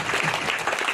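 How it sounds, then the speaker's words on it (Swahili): Audience applause at a memorial celebration of life, a steady dense clapping that fills the whole short moment at close range with no voices over it. "Pigeni makofi Kiberenge."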